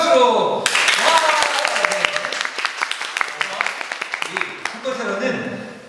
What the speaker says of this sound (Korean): 다시 한번 큰 박수로!